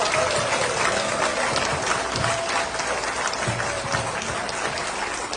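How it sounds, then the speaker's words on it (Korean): Steady applause from a crowd at a Korean political party rally fills the space, dense and continuous clapping at even loudness, with a faint tone drifting underneath. "큰 박수 한 번 주시기 바랍니다"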